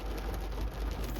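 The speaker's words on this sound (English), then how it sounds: "but it just started raining right now" Rain beginning to fall outdoors in Las Vegas, a steady soft hiss of drops close by, quiet and continuous with no voices.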